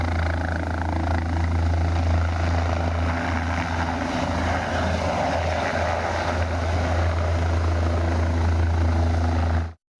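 A rescue helicopter airlifting people to safety, its steady rotor and engine drone loud and close, with a deep low thrum running unbroken for about ten seconds before cutting off abruptly.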